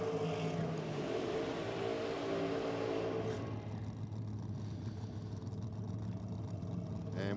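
Dragster engines at a drag strip in a championship round, a loud droning rumble with a strong low tone that dips midway and then carries on, heard from a distance without speech.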